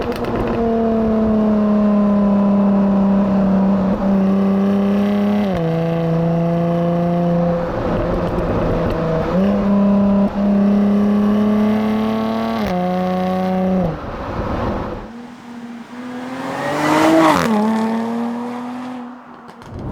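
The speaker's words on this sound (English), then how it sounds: "let's pop the car into dynamic mode, the gearbox into sport and manual, open the exhaust valves" Jaguar F-Type V6 engine in dynamic mode with sport manual gearbox and exhaust valves open, revving loudly through repeated stepped rises and drops in pitch, then a sharp higher blip near the end, close and alone.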